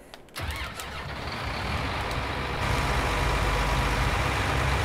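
A John Deere 8530 tractor engine cranks and starts, then settles into a loud, steady diesel idle that grows slightly fuller as it runs, close by with no talking.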